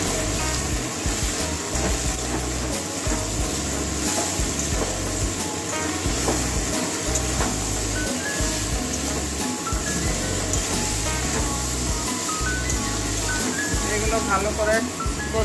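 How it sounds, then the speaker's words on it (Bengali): Dried fish sautéing with ridge gourd, pointed gourd, spices and salt in a pan, giving a steady low sizzle and stirring mixed under a continuous bed of background music. "মশলা শুটকি মাছের সঙ্গে ভালো করে এই সবজিগুলো কষিয়ে নেব"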